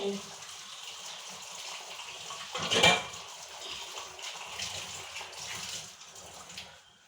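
Running water splashes steadily while dishes are washed in a home kitchen, with a louder gush of water midway through, and a voice talking faintly in the background.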